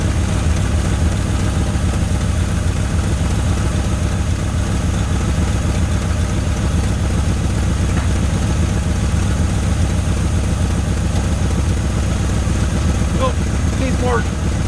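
A 1981 Ford Mustang with a 5.0 engine idles steadily and loudly at close range in a constant low rumble throughout, with people talking over it.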